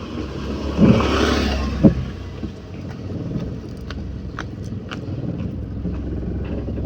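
A car engine idling low and rough while held at half clutch on an uphill start, a steady rumbling vibration with a brief swell of revving near the start, then settling to a faint even hum.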